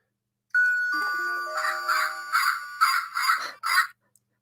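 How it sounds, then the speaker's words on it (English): A Lego brick with a button plays an electronic doorbell chime, a tinny, repeating ding-dong melody, several bright tones in quick succession, loud and close, then stops. "makes the sound of a doorbell"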